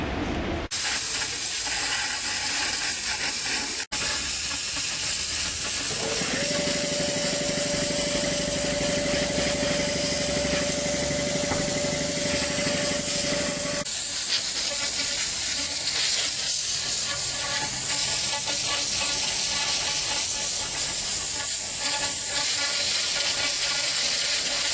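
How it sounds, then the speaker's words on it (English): Compressed air gun blowing loosened resin out of a repair: a loud, continuous rushing hiss that runs the whole time, with a brief steady tone partway through and no talking. "Now what we're going to do is hit it with a compressed air gun and see if we can blow all"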